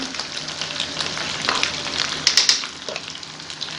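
Whisked homemade yogurt sizzles in a pan as white beef korma is fried, giving a loud, close, crackling hiss with scattered sharp pops and spoon clicks, no one speaking.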